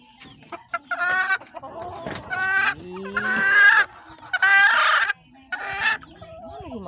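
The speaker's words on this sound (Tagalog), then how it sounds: "Nangitlog ang akong manok." A hen clucks and squawks in loud bursts, several close calls in sequence with short pauses between, no talk over it.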